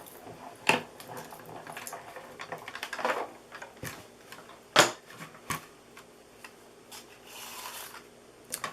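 Paper is cranked through a die-cutting and embossing machine, producing faint scraping rubs and scattered dry clicks and ticks at an uneven pace, up close in a quiet room with no speech.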